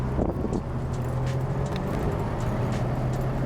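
An 80-year-old luxury car pulls away in first gear as the clutch is rolled out, a steady low engine drone heard from inside the cabin with a few faint clicks and rattles.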